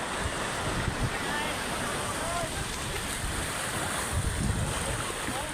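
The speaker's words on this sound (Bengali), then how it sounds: "সমুদ্রের স্রোত হঠাৎ করে অনেকটাই বেড়ে গিয়েছিল" Sea waves surge onto the beach at Digha as the current swells, a loud continuous wash with low rumbling breakers and no speech.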